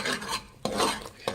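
Ground masala paste hisses and sizzles in hot oil while a spoon scrapes and stirs it around the pan in a few quick strokes, with no one speaking.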